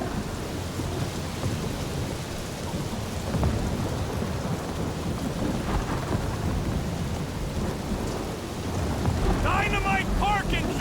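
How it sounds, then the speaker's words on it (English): A thunderstorm with rain in the video game Guardians of the Galaxy: loud, continuous rumbling thunder over heavy rain, with a burst of voices near the end. "That is some really crazy lightning out there!"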